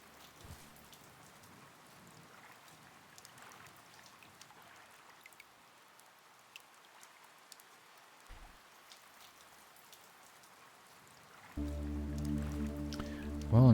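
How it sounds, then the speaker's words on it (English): Rain falls in the god-simulation game GodSIM as a soft, steady patter, faint and unbroken, until a brief bright tonal swell rises at the very end. "I'm sure they'd appreciate some shelters because it's raining"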